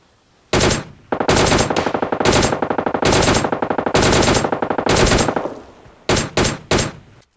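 Automatic gunfire in PUBG Mobile Lite as an enemy is finished off: loud, close bursts of rapid shots in several long strings, then three short bursts at the end, with no talking.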